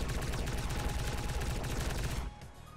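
Rapid, continuous gunfire in Grand Theft Auto San Andreas, a dense, loud burst of overlapping shots that cuts off abruptly near the end, leaving quieter game sounds.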